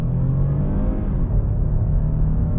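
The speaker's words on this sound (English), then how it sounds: "So we're gonna see how she accelerates." A 2022 Lexus RX 350L accelerates, its engine rumble and whir rising steadily and close for a few seconds with no talk over it.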